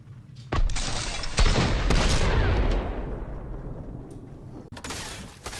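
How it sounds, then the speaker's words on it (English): Tac, pump and charge shotguns fire in a video game: loud, sharp blasts land close together near the start, with a booming rumble trailing off between them, then one more shot near the end. "In this clip, you can see the tac, pump, and charge shotguns all synchronized together."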